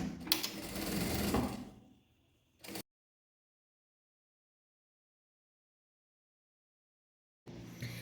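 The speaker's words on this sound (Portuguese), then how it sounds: "E vou costurar ele dobrado." A sewing machine stitches folded fabric bias tape for a large placemat in one short, fast run of close mechanical whirring. Silence follows, then the motor starts again briefly at the end.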